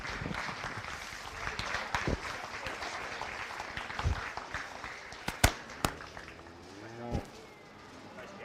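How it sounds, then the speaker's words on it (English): Crowd applause breaks out at a county fair beef show, a steady wash of clapping with scattered loud pops and sharp transients, plus a cow's low moo rising briefly near the end. "Let's go ahead and give her a nice round of applause for an excellent day."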